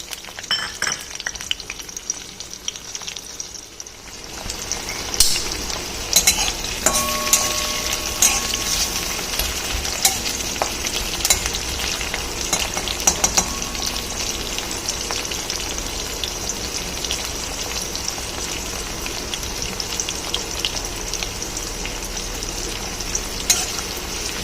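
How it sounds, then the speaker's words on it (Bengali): Green chilies and onion hit hot oil with nigella seeds, a sudden loud sizzle that stays as a steady close crackling hiss, with occasional stirring clinks and no talk. "এরপরেই আমি কাঁচা লঙ্কা আর পেঁয়াজটা দিয়ে দেবো।"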